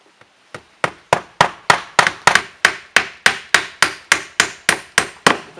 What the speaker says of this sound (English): I'm going to secure the trim with 8D galvanized nails